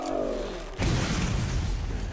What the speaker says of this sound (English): suddenly hears explosions from behind you